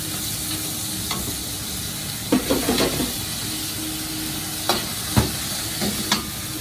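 Garlic and beef stir-fry in hot oil at a Thai street-food stall in Germany, a steady crackling sizzle with scattered spatula scrapes and clacks against the pan.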